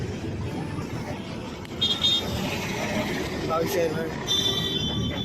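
Busy road traffic heard from inside a moving bus, with a steady rumble of engines and a few sharp car-horn honks sounding out at moderate distance.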